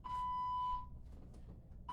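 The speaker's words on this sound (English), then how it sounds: "Listen out for the timer." Workout timer gives a sharp, clear electronic beep lasting most of a second, then a second beep starts just before the end, over quiet gym room tone with no talk.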